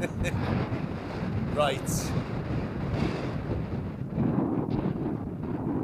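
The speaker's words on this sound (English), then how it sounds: "It's blowing a gale." A strong gale blows outdoors on a snowy Lake District fell by Angle Tarn, roaring steadily and buffeting the microphone throughout. A voice speaks briefly.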